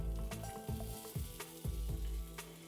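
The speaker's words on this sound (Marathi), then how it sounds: "त्याला छान परतून घेऊया" Coriander seeds, fenugreek seeds, dried chillies and soaked rice roasting in a spoonful of hot oil, giving a dense, loud, continuous crackling sizzle with a few stirring scrapes, heard up close and alone.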